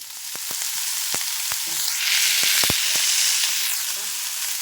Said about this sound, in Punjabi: ਪਿਆਜ਼ ਤੇ ਟਮਾਟਰ ਐਡ ਕਰਤਾ ਇਹਦੇ ਵਿੱਚ ਆਪਾਂ ਲਸਣ ਵੀ ਪਾਇਆ ਹੋਇਆ ਤੇ ਇਹਨੂੰ ਚੰਗੀ ਤਰ੍ਹਾਂ ਭੁੰਨਾਂਗੇ